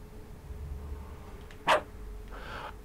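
A dog in a video game gives one short, sharp bark over a quiet ambient hum. Nothing else stands out, and no one speaks.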